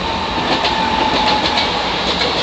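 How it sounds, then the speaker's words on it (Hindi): A Mumbai local train runs past on nearby tracks, its steady rumble and rhythmic clickety-clack of wheels filling the scene loudly and continuously, with no talking. "ये देखो उसके जस्ट सामने वाले पटरी पे भी लोकल गुजर रही है"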